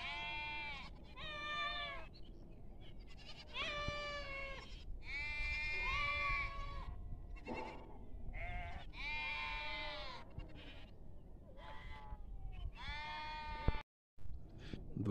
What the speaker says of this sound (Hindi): भेड़ ही भेड़, बकरी ही बकरी है यहाँ पे, ये पहाड़ी बकरी।